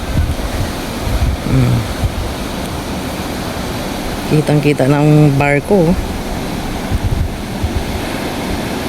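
Strong ocean waves and blustery monsoon wind roar continuously along a coastline, with heavy wind buffeting the microphone; a person speaks briefly partway through.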